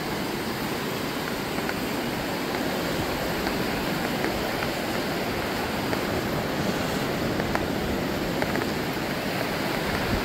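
A fast-churning river rushes past the shore along a meadow trail, a steady, full roar of water with no voices over it.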